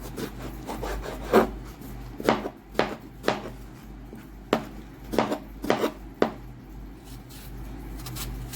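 A knife chops vegetables into small cubes on a board: a series of close, irregular taps and scraping cuts, about a dozen strikes over a quiet background.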